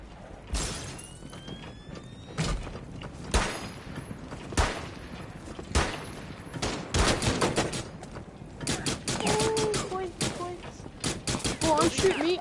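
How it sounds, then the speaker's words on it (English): Video game gunfire sounds in sharp, separate bangs, then in dense rapid bursts toward the end, fairly loud and mixed with other game effects. "I'm surprised Ash hasn't worked out just shooting her fucking gun."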